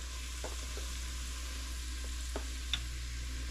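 Flour cooked in a pot for clam chowder, stirred with a spoon over steady frying sizzle, a continuous hiss with occasional light scrapes and taps from the utensil, no talk.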